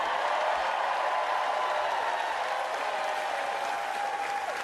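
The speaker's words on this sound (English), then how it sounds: "let's give another big round of applause to the next governor of North Carolina, Josh Stein" A political rally crowd applauds steadily for a gubernatorial candidate, a dense, even wash of clapping that carries on at a fairly distant, moderate level from start to finish without any speech.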